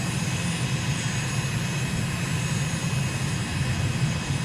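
Steady drone of an aircraft engine held just above idle throttle in Microsoft Flight Simulator, a continuous, even hum with no breaks and no voices.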